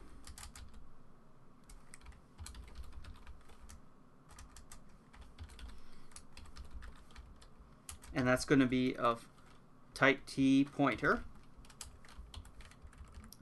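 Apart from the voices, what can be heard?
typing on a computer keyboard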